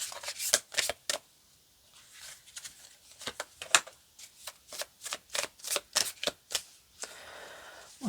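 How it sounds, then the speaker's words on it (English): Tarot cards are shuffled in quick riffling bursts, then handled and snapped in a brisk, irregular rhythm, close and fairly loud with no talking. "Let's pull out a few cards here."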